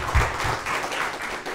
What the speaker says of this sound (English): If you can, give yourselves a round of applause.